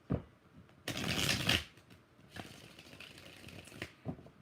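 A deck of tarot cards is shuffled at close range, a quick riffling burst followed by softer, shorter shuffles and taps, quiet and alone.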